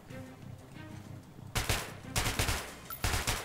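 Automatic gunfire in Metro: Last Light bursts out after a quieter stretch, with several rapid loud volleys separated by short pauses.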